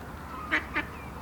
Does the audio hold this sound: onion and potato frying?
no